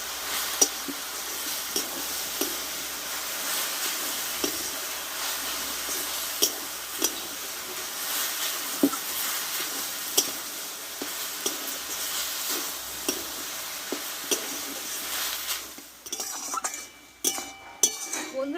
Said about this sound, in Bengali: লবণ হলুদটা দিয়ে এবার ভালোভাবে নাড়তে থাকবো